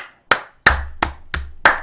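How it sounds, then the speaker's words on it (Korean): A single person claps five sharp, evenly spaced times, loud and close, with no other sound between the claps. "박수"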